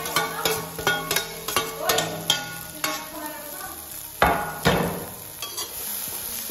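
Snails cook in a pan with garlic paste, chilies and large garlic cloves in a village kitchen, with repeated sharp scraping and stirring knocks against the pan over a faint sizzle, arriving in an irregular rhythm close by.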